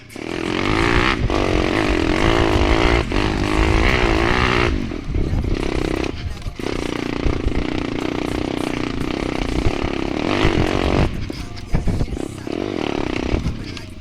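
A Geon X-Ride 190 pit bike's engine pulls hard in second gear, a loud close buzzing roar that rises with brief dips between pulls.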